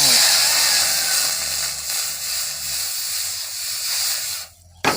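Loud, steady sizzling hiss of water hitting a hot wok on a gas stove, continuous and close, cutting off abruptly near the end.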